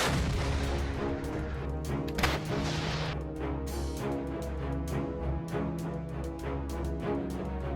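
Artillery shelling of settlements in Donetsk region, heard as a dense, continuous barrage of booms and sharp reports with a low rumbling roar, one heavier blast standing out early on, loud throughout with no voices.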